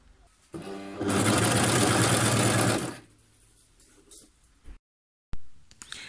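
A Brother coverstitch machine hemming a sleeve runs in one loud, steady two-second burst of fast stitching, followed by quieter handling clicks and a pause.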